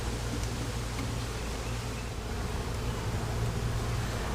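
A swarm of honey bees buzzes steadily during a swarm trap transfer, forming a dense, continuous drone that stays close and fairly loud throughout, with no talking.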